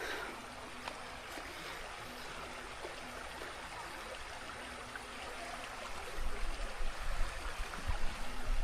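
A river in the outdoors flows steadily with a soft, continuous rushing and trickling, faint and alone, swelling slightly louder toward the end.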